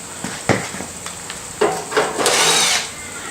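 A pneumatic impact wrench rattles in short bursts while pulling bolts off a power hacksaw, with a couple of brief hits followed by a longer, louder sustained burst, close by.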